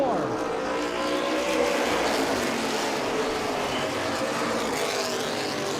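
Street stock race cars roaring around Owosso Speedway, a steady wash of engine noise with shifting whine as the pack comes out of the turn, with an announcer talking over it.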